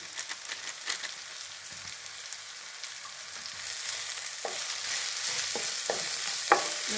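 Soya chunk and potato masala with coriander and cumin powder sautéing in a pan, a soft steady sizzle with repeated clinking spatula strokes that grow busier toward the end, close and quiet, no talking.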